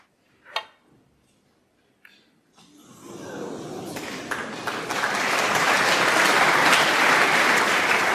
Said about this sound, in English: great buzz around the crowd again after those 2 frames from Ronnie O'Sullivan